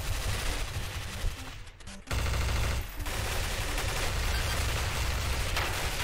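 Rapid gunfire bursts from Counter-Strike: Source gameplay, loud and continuous through most of the stretch with a short lull midway, then sustained firing again.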